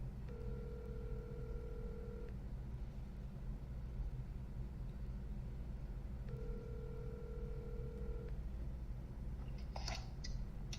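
A phone call being placed, with two long steady ringback-style tones about six seconds apart over a constant low rumble like a car interior, followed by a few brief clicks near the end.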